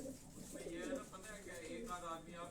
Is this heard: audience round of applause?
no